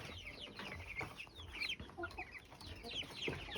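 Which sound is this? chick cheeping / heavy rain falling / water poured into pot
chick cheeping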